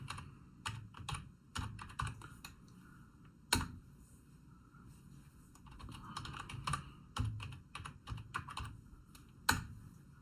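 Someone types on a computer keyboard, entering a script on a Raspberry Pi, with irregular bursts of crisp, close key clicks separated by short pauses.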